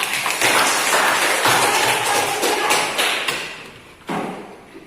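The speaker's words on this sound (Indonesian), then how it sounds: "Oke, tepuk tangan buat orang tua." Students in a classroom guidance session clap for their parents, a short burst of scattered hand claps and thuds that fades, then a final brief clap near the end.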